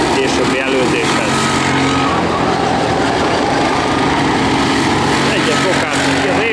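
Go-kart engines racing around a track, their high, buzzing whine rising and falling as the karts pass, steady and fairly loud throughout with excited commentary talking over it.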